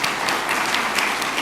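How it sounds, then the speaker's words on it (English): An audience at a seminar applauds a guest of honor, dense steady clapping from many hands that fills the room at moderate volume. "Let us applaud to the guest of honor, His Excellency Sheikh Abdullah."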